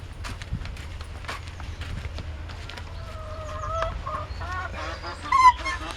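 Ordinary village chickens in a coop in Rize, Turkey, clucking in short bursts at close range, with scratchy footsteps and a few higher drawn-out calls toward the end.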